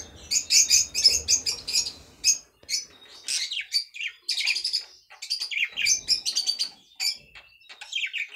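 A budgerigar chirps busily with rapid high tweets and warbles, close and fairly loud, in an indoor aviary of breeding pairs with nest boxes, the chatter running almost continuously with brief gaps.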